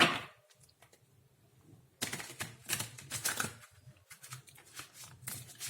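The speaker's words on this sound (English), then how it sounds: "I usually shuffle it this way, like riffle shuffling." Tarot cards riffle shuffled in quick bursts, a soft rapid flutter of clicking edges, starting faint and then growing denser and closer.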